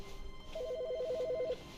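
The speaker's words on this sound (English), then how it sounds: "There's a phone call." A telephone rings in The Stanley Parable, giving one short burst of rapid, evenly trilling electronic tones lasting about a second against a quiet room hum.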